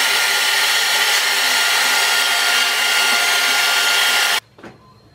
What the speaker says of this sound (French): ça fait quand même du bruit le sèche-cheveux